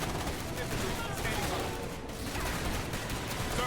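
Dense, continuous gunfire roars from a battle in the strategy game Starship Troopers: Terran Command, with overlapping shots forming a steady wall of noise and some voice chatter mixed in.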